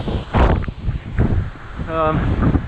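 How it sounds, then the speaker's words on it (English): Strong gusts buffet the microphone on an exposed hill trail during a trail run, a low roaring rumble that swells and eases throughout, with a voice speaking over it. "The wind is pretty full on."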